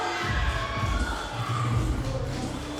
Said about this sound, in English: local crowd, big fan of Soufyan Aarab